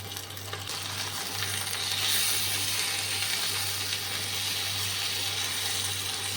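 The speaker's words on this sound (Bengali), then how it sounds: "এগুলো একটু লাল করে ভেজে নিচ্ছি" Marinated chicken fries in a pan with a constant crackling sizzle over a steady low electrical hum, close and even throughout with no talking.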